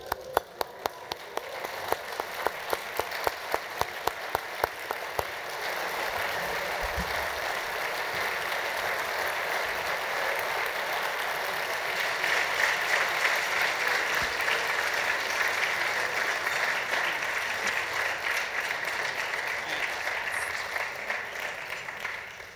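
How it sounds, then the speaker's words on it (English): An audience at the TFF Circle of Champions 2017 event breaks into applause, a few scattered claps building into sustained, dense clapping that fills the hall for about twenty seconds. "And let's give Nicholas a round of applause"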